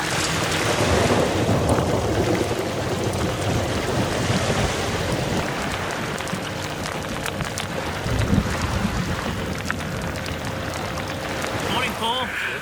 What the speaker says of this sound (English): the heavens opened. There's a bit of lightning. It's raining now.